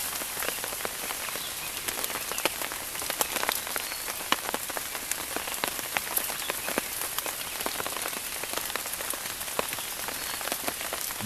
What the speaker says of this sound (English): I definitely don't want to walk in this rain.